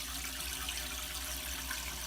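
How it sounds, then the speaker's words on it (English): A toilet flushes and refills after its flapper has been repaired, giving a steady, even rush of water that runs without a break and without talk. "All right, let's give it a flush,"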